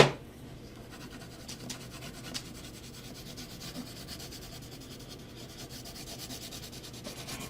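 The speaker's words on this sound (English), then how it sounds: "Sharpen this up." A pencil being sharpened while drawing, giving a steady close-up grinding, rubbing scrape that runs continuously throughout with no talk.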